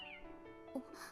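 A cat in the anime Eighty-Six episode 3 gives one quick, faint meow over quiet background sound, with a voice nearby.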